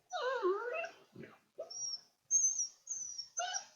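A sleepy puppy in training gives a run of high, wavering whimpers and whines in short bursts, close and fairly clear, with brief pauses between cries.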